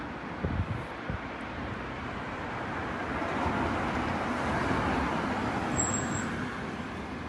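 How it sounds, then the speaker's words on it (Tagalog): Heavy evening road traffic with many cars passing, heard near a roundabout as a steady, dense roar of engines and tyres that swells slightly and holds, with no distinct single vehicle standing out. "ayan daming sasakyan paggabi dito mga idol"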